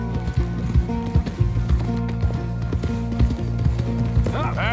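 Horse hooves clip-clopping on a road in Red Dead Redemption 2, an irregular trotting rhythm up close with creaks, while someone talks over it.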